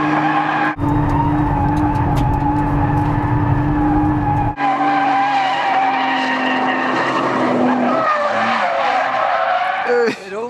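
A Nissan GT-R with 480 horsepower, driven at flat throttle, spinning and skidding its tires into smoke; a loud, sustained engine roar and tire squeal dominate, shifting pitch midway and fading toward the end.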